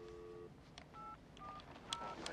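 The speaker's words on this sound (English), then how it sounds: "I'm calling Kim." A telephone number dialed on a keypad, a quick series of distinct touch-tone beeps at a steady pace, faint and close with light background noise.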